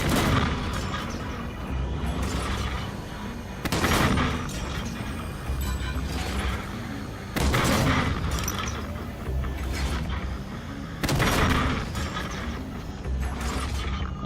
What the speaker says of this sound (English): I'll just keep firing down there.